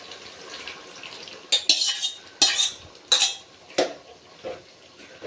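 Cooked toor dal is stirred into a pot of country chicken rasam: several distinct metal ladle scrapes and clinks against the vessel, spaced irregularly over a quiet background.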